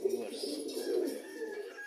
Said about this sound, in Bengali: এই যে ওই কবুতরটা বসে আছে